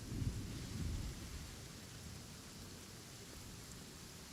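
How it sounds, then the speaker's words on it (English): Steady rain falls in a Genshin Impact scene, a soft continuous hiss with a slightly heavier, rumbling patter in the first second before settling into an even, moderate wash. "It's raining."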